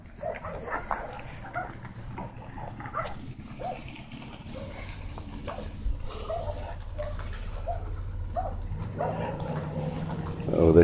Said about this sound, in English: Oh, they hear dogs barking.